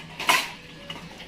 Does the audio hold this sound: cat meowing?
no